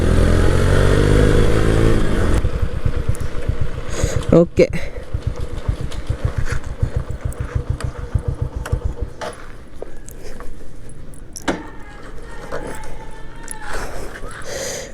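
A Vikrant V12 motorcycle engine is heard during a ride. It idles and revs loudly with rapid, pulsing firing, then fades into rougher, uneven engine noise and wind. A rider talks over it.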